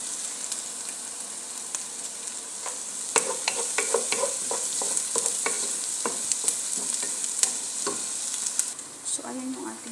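Drained meat sizzling in its own butter with garlic in a hot pan, stirred with frequent sharp scraping and clinking of a utensil against the pan over a steady fry.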